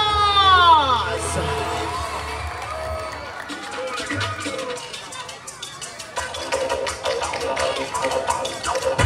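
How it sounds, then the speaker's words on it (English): A festival crowd at the Kawayan sa Casili Festival 2024 ritual showdown cheers and whoops for the first contingent, from Cluster 4, with loud sustained noise mixed with shouting and a voice talking over it. "A round of applause!"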